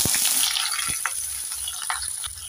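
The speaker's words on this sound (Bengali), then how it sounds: "আলুগুলোকে ভেজে নেব।" Diced potatoes frying in hot oil, a loud, dense, steady sizzle with faint spatters, heard up close and alone.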